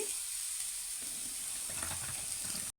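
Green chillies frying in oil in a kadai (wok) for Andhra-style gongura chutney, a faint, steady sizzle with soft crackling and stirring, close and continuous, then cutting off abruptly.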